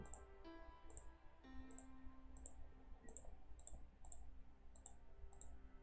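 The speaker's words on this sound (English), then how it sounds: "I'm just single clicking and then moving my mouse to a new location and clicking." Repeated single mouse clicks on a computer while drawing an outline with a polyline tool in design software, about nine crisp, evenly spaced clicks over a low steady room hum, with no talking.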